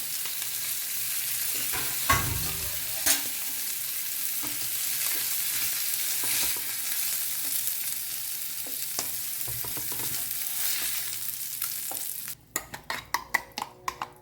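Pomfret fish sizzles steadily in a pan, a soft constant frying hiss with occasional scraping knocks, ending in a short burst of louder crackling spatters.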